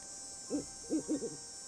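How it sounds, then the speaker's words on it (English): Owl hooting in the Nancy Drew video game Ghost Dogs of Moon Lake, a soft quavering call repeated in four short hoots over quiet ambient hiss, fairly faint and alone. "Hey Red, you don't sound anything like that owl"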